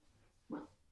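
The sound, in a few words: dog barking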